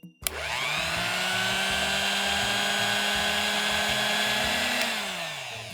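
A blender grinds dry fruits with almond milk, whirring up from a short start into a steady high motor drone held for about five seconds before winding down, close and loud, with no talk.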